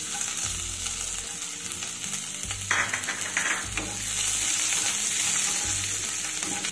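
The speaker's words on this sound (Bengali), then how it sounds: "রসুনটাকে নেড়ে চেড়ে একটু ভেজে নেব যতক্ষণ না কাঁচা গন্ধটা চলে যায়।" Chopped garlic fries in hot oil after cumin tempering, giving a steady close sizzle with occasional stirring scrapes and clinks of a spatula against the pan.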